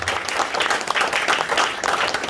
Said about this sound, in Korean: 다시 한번 박수를 축하의 박수 부탁드리겠습니다.